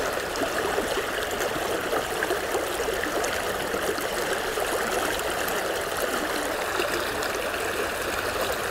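A river current flows steadily at the head of a pool on a summer fly-fishing trip, a continuous, close, fairly loud rushing and trickling wash with no speech.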